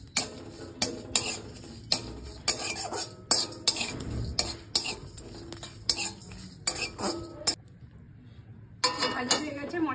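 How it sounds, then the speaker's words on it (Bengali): Cumin and fennel seeds fry in a pan for ghugni while a metal spatula stirs them in steady, rhythmic scraping strokes with faint sizzling. The strokes pause briefly near the end, then resume. "এবার জিরে মৌরিটা ভেজে নেব"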